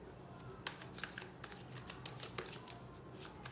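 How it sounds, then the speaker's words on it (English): Tarot cards are shuffled by hand, a quiet run of close, crisp riffling flicks and soft slaps in irregular bursts, with no voice over it. "One last shuffle and take from the middle."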